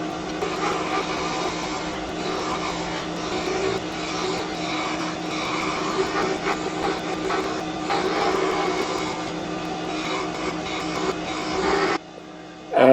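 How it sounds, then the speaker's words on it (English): Woodturning lathe spinning a thin wooden chopstick spindle, a steady whirring hum with rough, rattling chatter as the flexing workpiece vibrates, continuous until it cuts off near the end. "start to get a bit of chatter as the spindle starts to flex a little bit"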